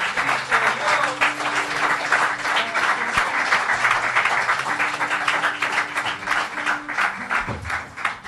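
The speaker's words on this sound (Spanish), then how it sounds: "Dale un aplauso" Congregation applause during a church worship service, a loud, steady patter of many hands clapping that holds for the whole stretch, with faint music tones sustained underneath.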